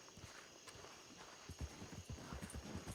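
Horse hooves clip-clop in a Red Dead western video game, a steady run of walking hoofbeats over a busy background hum, moderately close and without talk.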